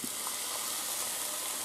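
Chopped onion sizzles in hot oil in a pan, a constant close crackling hiss with no pauses and no talking.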